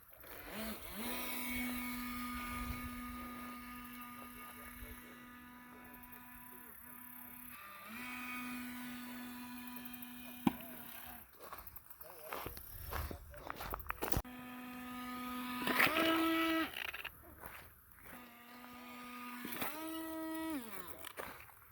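A small remote-control boat runs on water between the shore and a rock, its motor whining and revving, dropping off and surging again in repeated bursts. The sound is fairly faint, with a few knocks and splashes mixed in.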